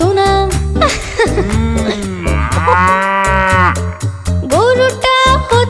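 A cow moos loudly and close, several drawn-out lowing calls rising and falling in pitch one after another, dominating over a faint background.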